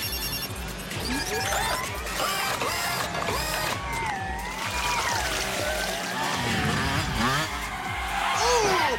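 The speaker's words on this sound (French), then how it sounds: "Le kart blanc Albacorp est en train de doubler." Animated go-kart race in which a white Albacorp kart overtakes, heard as loud, continuous engine whine with rising and falling pitch, tire squeals and busy race noise.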